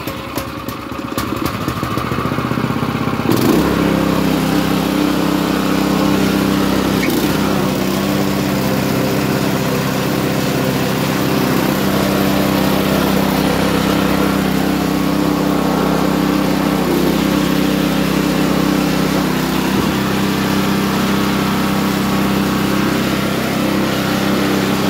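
A late-1960s Montgomery Ward snowblower built by Gilson, repowered with a new engine, starts after a brief attempt and then runs steadily at close range, a loud, even small-engine drone that holds for about twenty seconds.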